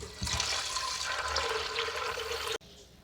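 About 1.5 litres of water gush into a pot of chickpeas with turmeric, a loud, rushing, continuous pour close by that stops abruptly near the end, leaving only faint room noise.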